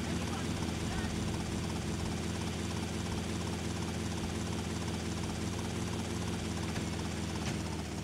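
A helicopter in the video game GTA Vice City flies with a loud, steady rotor thump and engine drone that runs unbroken throughout, while someone talks over it.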